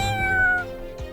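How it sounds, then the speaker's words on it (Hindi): A pet cat in a cartoon lets out a single clear, drawn-out meow, close and fairly loud, over a soft background. "मेरी ये लाडली बिल्ली इसकी खुशबू से पागल हो रही है"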